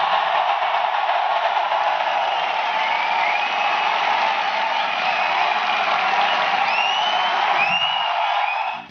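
A large seminar audience gives loud, sustained applause, a dense even roar of many hands clapping for the whole stretch, with a few whistles and whoops rising above it before it cuts off abruptly.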